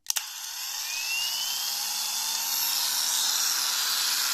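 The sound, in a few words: Procraft PW-2200 brushless angle grinder switched on and running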